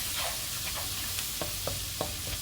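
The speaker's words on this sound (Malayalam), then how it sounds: "ഇഞ്ചി എടുത്തിട്ട് ഒന്ന് മൂത്ത് വരുന്നതിന് ഒരു മണം വരുമല്ലോ" Ginger fries in a pan with a soft continuous sizzle. Several light clicks of stirring punctuate it over a couple of seconds.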